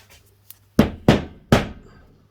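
Three sharp metallic hammer taps on a part during a Polaris Ranger 570 EFI gearbox rebuild, each ringing out briefly, the second and third closer together, with a faint softer tap just before.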